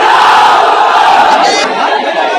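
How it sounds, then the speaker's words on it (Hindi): A large crowd at a political speech answering a call with a loud, sustained collective shout of the Nara-e-Takbir slogan, a dense roar of many voices filling the whole stretch before trailing off. "अगर सच कहा तो नारा लगा हमारे साथ, नारे तकबीर, नारे तकबीर।"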